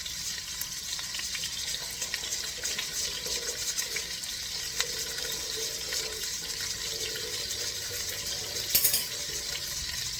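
Water poured from a tap into a spoon or bowl for homemade tomato puree made from tomato paste, a soft steady trickle close by with a brief splash near the end and no talking.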